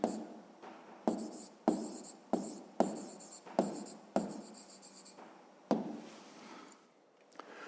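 Pen strokes on paper for a fifth-grade maths exercise, a series of short scratchy bursts, about ten, each starting sharply and fading, close and clear with no talk over them.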